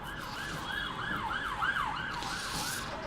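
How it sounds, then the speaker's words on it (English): An emergency siren wails in a steady rising-and-falling cycle, heard from inside a Class 171 train cab on the London to Brighton line, moderately loud over the constant rumble of the train. "Sirens!"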